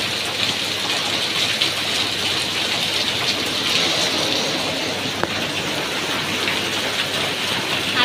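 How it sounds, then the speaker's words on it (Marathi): Steady rain falls outside on a quiet residential lane, a dense, even hiss of drops on surfaces that continues unbroken throughout with no voices. "मस्त बाहेर पाऊस पडत आहे आज."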